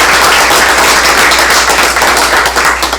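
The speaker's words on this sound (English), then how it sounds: "I would like to give Miss Julie Hawkins a round of applause" A school board meeting audience applauds a school sponsor with a dense, loud burst of many hands clapping at once, sustained throughout and tapering slightly at the end.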